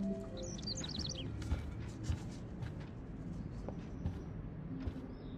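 A small bird in the Life is Strange video game gives a quick run of high, bright chirps early on, then goes quiet over a soft ambient hum.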